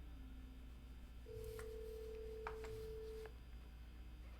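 A telephone call to a childcare centre in Minneapolis, Minnesota rings through: a single steady ringback tone sounds for about two seconds over a faint line hiss, with soft clicks during the tone.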